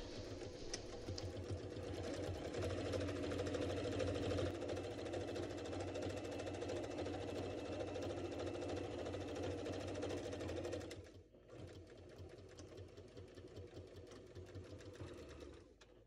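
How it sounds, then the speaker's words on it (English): Sewing machine stitching a pillow cover, a fast steady mechanical whirr for about eleven seconds, a brief pause, then a quieter stretch of stitching resumes close by. "The next clip will show you me sewing it together."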